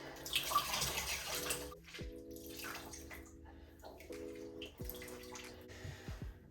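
Wavy hair dunked into a bowl of water, soft close splashing and sloshing with gurgling water movement, repeated in a few separate dips at low volume.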